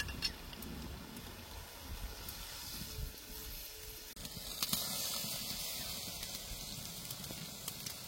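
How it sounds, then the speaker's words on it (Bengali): Broth hits a hot pan of sautéed vegetables midway, setting off a sudden burst of loud sizzling and hissing that settles into a steady bubbling fizz, preceded by quieter pan frying. "এখন ঝোল দিয়ে দিব।"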